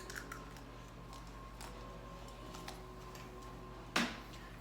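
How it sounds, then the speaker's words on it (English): A single egg cracked into a bowl for an egg wash while making scones, heard as one sharp, close crack followed by a brief wet spill, set against a steady low kitchen hum. "I'm going to break my egg in here"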